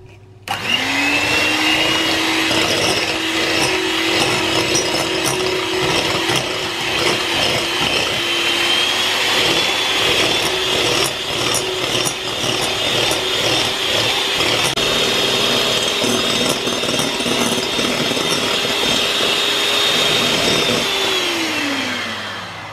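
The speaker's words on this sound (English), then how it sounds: "Put a lot of air into that with the electric whisk" An electric whisk beating sugar for a Platinum Jubilee pudding, a loud steady motor whine running continuously for about twenty seconds at close range, starting and stopping cleanly, with no talking.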